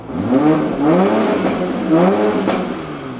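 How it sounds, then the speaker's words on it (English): An Audi R8 engine revs up sharply a few times in quick succession, loud and close, each rev rising and falling back with small pops. "then I'm gonna give it a couple baby revs for y'all boys"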